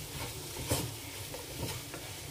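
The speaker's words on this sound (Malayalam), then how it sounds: "തക്കാളി നന്നായി വെന്തുടയണം, അതുവരെ വഴറ്റാം." Onion, tomatoes and green chillies sautéing in a pan for fried chicken biryani, with a soft steady sizzle and a few faint stirring scrapes heard close and quiet.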